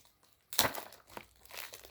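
Cardboard and plastic packaging of a frog balance game box crinkles as it is opened, with a sudden close rustle followed by a few softer crinkles.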